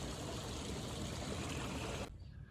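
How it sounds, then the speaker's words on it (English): A garden pond waterfall cascading over rocks gives a steady, close rushing and trickling wash of water that holds even, then drops away abruptly near the end. "So I have this waterfall that I've been working on for a while"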